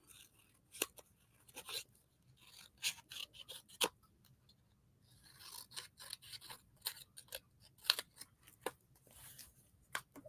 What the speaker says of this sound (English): So let's cut these out.